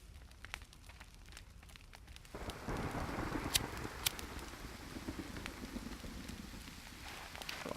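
Steady rain falls in the survival video game The Forest, a continuous hiss and patter that swells after the first couple of seconds and holds at a moderate level, with a few sharper crackles.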